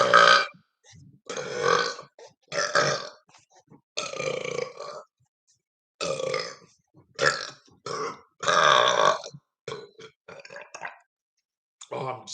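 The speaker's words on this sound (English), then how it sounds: "wants me to do as many burps as I can" Loud burps after drinking soda, about a dozen voiced belches in separate bursts across twelve seconds, each a strong, rough release with short silent gaps between.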